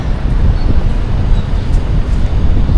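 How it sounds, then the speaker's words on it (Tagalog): Steady, heavy rumbling wind buffets the microphone continuously among city buildings in BGC, with dense low-frequency roar and no clear pauses. "Hangin na. Sobrang hangin."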